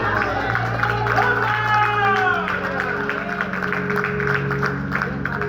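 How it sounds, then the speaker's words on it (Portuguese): A church congregation claps steadily throughout, with sustained low keyboard or organ tones underneath and voices calling out over the applause. "Se fosse você, eu aplaudi o nome do Senhor"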